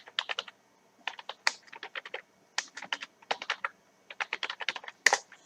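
Fast bursts of typing on a computer keyboard while composing an email body in a beginner internet lesson, keys clattering close and clear in quick runs with short pauses between them.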